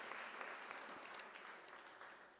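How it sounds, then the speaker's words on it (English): A crowd claps for the academics at a University of South Africa autumn graduation ceremony. The applause is dense and sustained and gradually thins as it goes on. "can we give an applaud to our"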